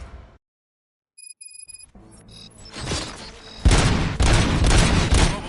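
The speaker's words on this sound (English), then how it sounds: "Gunshots? What's going on?" Gunfire rings out in the video game RoboCop: Rogue City, a loud burst of rapid shots building after a few electronic beeps and a short lull, then continuing as a dense, sustained fusillade.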